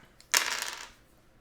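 Dice rolled in a C-Lo street game land with one short, sharp clatter close by, then fade quickly, with no talking.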